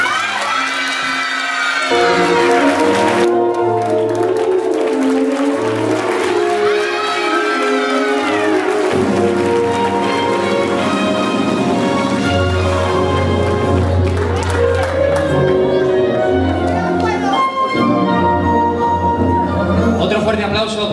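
A crowd at the San Roque neighbourhood queens' festivities in Novelda applauds and cheers while music plays and a presenter talks over the loudspeakers, with the clapping blended into the mix throughout.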